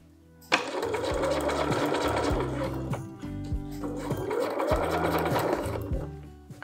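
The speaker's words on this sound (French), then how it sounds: "Ensuite, je rabaisse le pied et je couds jusqu'en bas du ruban." A sewing machine stitches down a zipper tape in two steady, loud runs of close mechanical whirring, with a brief pause between them and no voices.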